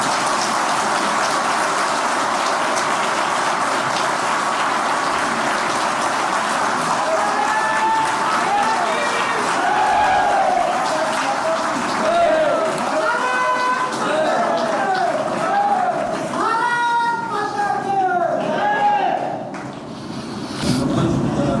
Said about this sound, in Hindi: सभी लोग अपनी तालियों से अनुमति देंगे, सहमति देंगे